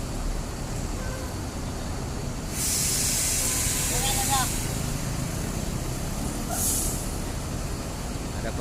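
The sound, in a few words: bus air brake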